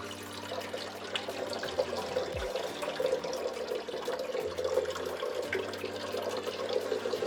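Water drains steadily through the shower plumbing of a camper van, giving a continuous close-up rush and gurgle. A low hum runs underneath and a brief thump cuts in midway.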